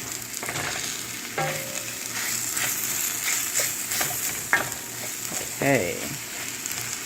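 Ground beef and onions with seasoning fry in a skillet for an Asian-inspired beef and vegetable dish, giving a steady close sizzle broken by scraping stirs from a utensil, with a brief spoken word.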